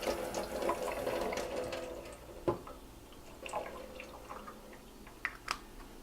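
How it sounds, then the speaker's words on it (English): Tap water runs as something is rinsed under it. A brief rushing stream comes first, then it trails off into scattered drips and small clinks, close by with no talking. "I just gotta rinse this a little bit."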